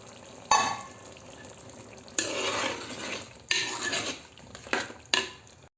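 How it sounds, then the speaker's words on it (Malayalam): Coconut milk is stirred into a pan of cumin chicken curry, giving several bursts of wet scraping and clinking from a spoon against the pot over a low sizzle. "ഈ തേങ്ങാപ്പാൽ ചേർത്ത് മിക്സ് ചെയ്യാം"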